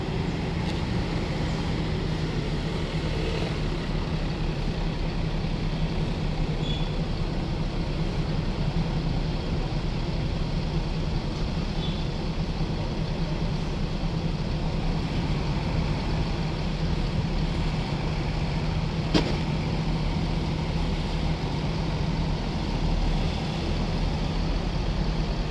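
Haryanto bus on the road, a steady low engine drone and rumble heard from inside, constant and even throughout with no talk.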